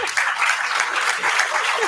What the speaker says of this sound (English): give them a standing ovation, clap for them until they resume their seats.